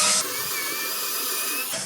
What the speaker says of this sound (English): I had to pick the only drill with a dead battery.